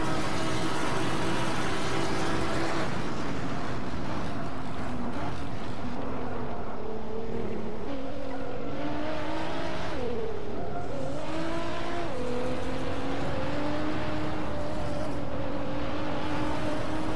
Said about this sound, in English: Here's the ultimate duel in top speed between a GT40 and Wayne's Gallardo